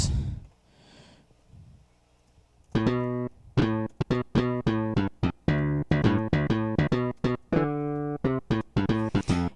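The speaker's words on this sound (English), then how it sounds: "slap bass." Punchy, percussive slap bass synth preset notes with bright harmonic attacks play a busy, syncopated line, following a brief quiet low rumble at the start.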